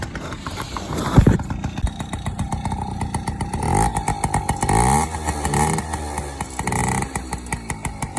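A small Yamaha PW50 dirt bike engine warms up on half choke, sputtering close by with uneven revs, blips and a rough idle that rises and falls throughout.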